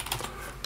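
Brief, close clicking of quick keystrokes on a Dell computer keyboard at a desk with a multi-monitor ThinkPad USB 3.0 dock setup. The keys are heard alone, with no talking.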